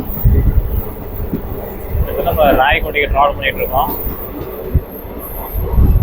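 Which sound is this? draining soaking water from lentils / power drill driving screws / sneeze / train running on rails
train running on rails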